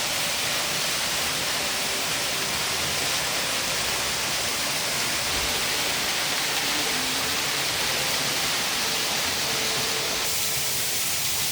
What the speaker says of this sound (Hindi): और यहाँ पे एक वाटरफॉल आ गया, ओ माय गॉड।